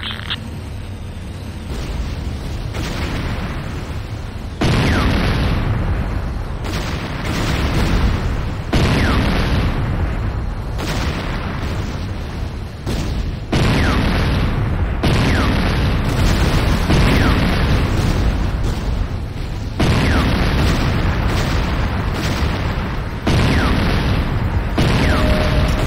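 Repeated explosions in the Renegade video game as the Hand of Nod building is attacked, heavy booming blasts recurring every second or two, loud and close, over a constant rumbling background.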